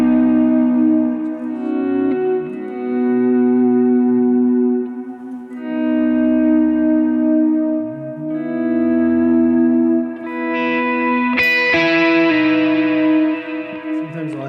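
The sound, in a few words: electric guitar with rich reverb effect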